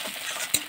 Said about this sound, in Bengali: পেঁয়াজটা আমি এখনকার লাল লাল করে ভেজে নেব।